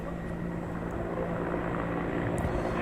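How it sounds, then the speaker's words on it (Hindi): A helicopter fighting a forest fire near Udaipur, Rajasthan, with a steady, droning rotor and engine roar that stays loud and continuous throughout. "हेलीकॉप्टर की मदद से इस आग पर काबू पाने की कोशिश की जा रही है।"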